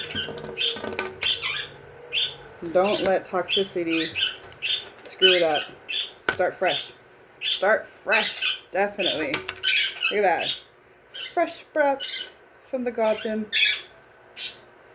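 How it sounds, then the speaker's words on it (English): Pet birds kept indoors squawk sharply and repeatedly, in loud close bursts that interrupt and overlap a person talking throughout. "Sorry about my birds. They are annoying."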